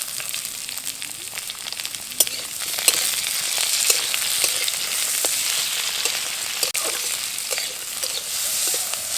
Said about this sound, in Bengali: পেঁয়াজ এবং টমেটো আর তার সাথে শুকনো লঙ্কা দিয়ে ভেজে নেব।